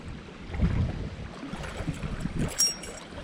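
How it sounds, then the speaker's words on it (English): Strong wind buffets the microphone in rough, low gusts that surge and fall, with no voices. "I didn't know the wind was going to be like this."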